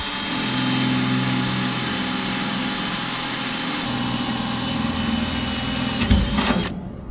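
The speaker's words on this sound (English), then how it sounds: "Gonna get the holes drilled." A power drill boring holes in a grain unload door, a loud continuous high whine that shifts slightly in pitch, ending with a brief rattle as the bit breaks through.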